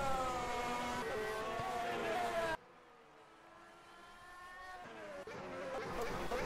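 Simulated Formula 1 engine from the F1 2017 racing game at the Hungarian Grand Prix, a loud high-revving whine with rising gear sweeps, a sudden drop to a quieter drone, then revs climbing again.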